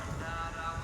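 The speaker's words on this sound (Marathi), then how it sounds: "गार असा वारा." A cool wind blows at a chilly, breezy outdoor spot, a brief low rumbling buffet against the microphone that stays fairly steady through the moment.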